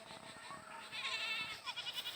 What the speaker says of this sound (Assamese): আমাৰ ছাগলীয়ে মানে চিঞৰি আছে